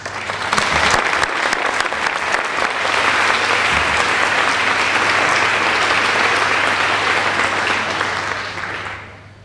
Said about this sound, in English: I'd like us all to give another round of applause to all of those groups.